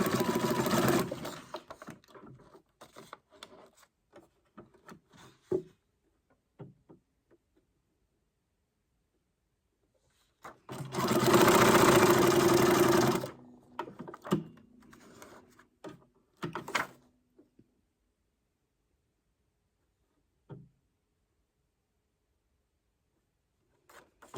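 Sewing machine stitching through paper, one sustained burst of steady mechanical whirring in the middle, with scattered short clicks and handling sounds before and after and quiet gaps between.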